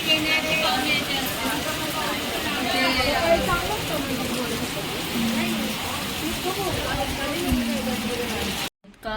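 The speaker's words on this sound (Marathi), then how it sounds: "पाऊस आहे इतका पाऊस आहे" Heavy rain pours down in a dense, steady hiss and patter, close and loud throughout, with a voice talking over it before the sound drops out abruptly at the very end.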